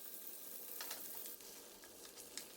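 Onion slices seasoned with salt and black pepper frying in a hot pan over high heat, a quiet steady sizzle with soft crackles and pops, no voices.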